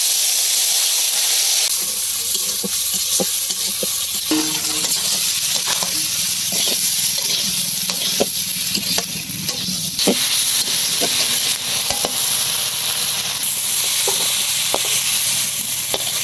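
Spices with cumin, cinnamon, ginger paste, turmeric, salt and chili are stir-fried together, giving a loud continuous hiss and sizzle broken by frequent scraping and clinking of a spatula against the pan.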